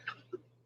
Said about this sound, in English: I'm going to cough here in a second